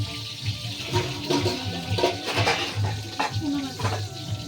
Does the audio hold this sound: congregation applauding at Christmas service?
no